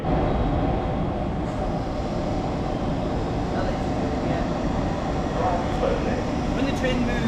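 A Southeastern train at London Bridge station, heard from on board as a Class 707, fills the space with a steady low rumble and hum throughout. A faint announcement or voice sits underneath.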